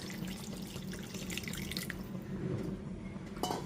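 A little water goes into a pan of Bengali pomfret fish curry with mustard and garlic, giving a soft, close wet pouring and dripping sound that runs steadily at low volume with no voices.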